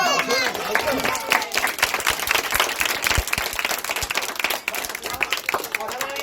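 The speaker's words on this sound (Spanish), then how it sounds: "Vale, pues un aplauso para ellos" Lively applause and cheering from a crowd of children and families at a live dinosaur show in Madrid, with scattered clapping, excited voices and shouts mixed through it.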